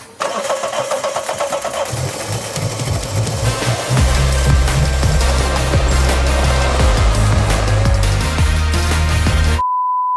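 A Daihatsu Terios, left unused in a garage for five years, is started on deodorant spray: the starter cranks for a few seconds, then the engine catches and runs roughly and loudly up close, ending in a steady electronic beep.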